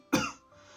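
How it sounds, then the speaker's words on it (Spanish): A single short dry cough, close and fairly loud, followed by brief quiet breathing. "Entonces la tos seca va a hacer esto"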